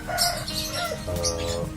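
A caged lovebird of the single-fighter type, resting and left alone, gives a short run of bright chirps and tweets close by, the calls quick and uneven over a low background hum.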